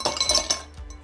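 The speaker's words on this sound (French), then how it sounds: "je commence par mettre quelques glaçons dans mon shaker et le reste, je vais les mettre directement dans mon verre." Ice cubes clink into a cocktail shaker and a glass while a rum Café Freddo is being made: a few sharp, bright clinks in quick succession, close and clear, with no talking.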